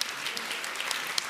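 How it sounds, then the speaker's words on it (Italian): Applause sound effect fired off during an Italian streamer's live broadcast, a steady burst of many hands clapping at moderate level with no talk over it. "vediamo se parte ancora l'applauso."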